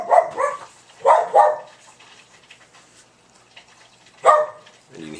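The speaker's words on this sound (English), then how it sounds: "you can hear Stig in the background trying to say happy birthday as well, but he doesn't know words, just barks" Stig the dog lets out three separate bursts of barking, each a quick pair of loud, close woofs spaced a couple of seconds apart, with quiet gaps between them and no talk.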